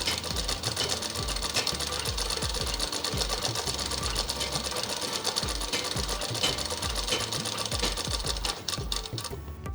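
A sewing machine stitches the double-folded bottom hem of a child's umbrella frock. Its rapid rhythmic needle clatter and motor whir run loud and continuous for nearly ten seconds, easing slightly at the very end.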